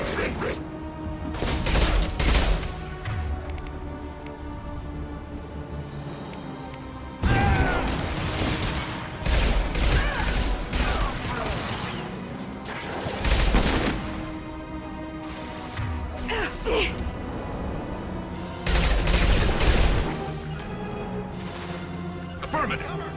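Suppressive gunfire in the video game Mass Effect 2, during a mission to break a prisoner out. Repeated loud bursts of rapid shots and impacts, layered with mechanical clatter and crashes, fill the whole span.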